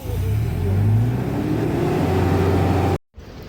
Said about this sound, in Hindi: गाड़ी चढ़ नहीं रही है, इसलिए भैया पीछे से पत्थर लगा लगा के इसको ला रहे हैं आगे।